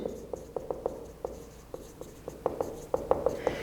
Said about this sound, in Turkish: Kilit kelimemi yazıyorum.